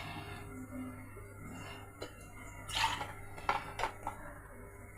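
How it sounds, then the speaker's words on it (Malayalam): A mixer jar being rinsed and handled at a kitchen sink, giving a few light clinks and clatters with faint water noise over a low steady hum. "അപ്പോൾ ഈ ജാറും കൂടെ ഒന്ന് കഴുകട്ടെ."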